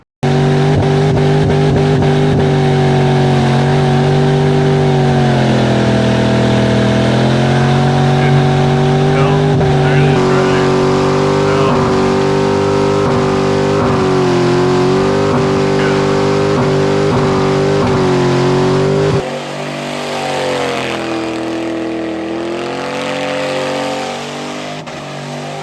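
A car's engine revs hard and holds at high pitch during a competition burnout, loud and close with wheel spin and tire squeal, then drops lower near the end; a voice is heard faintly.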